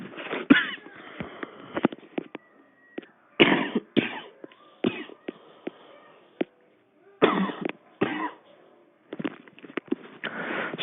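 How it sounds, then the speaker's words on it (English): A person coughs repeatedly in short bursts between quiet gaps, close to the microphone in a small radio studio, with some throat clearing and sniffing mixed in. "Sorry about the coughing."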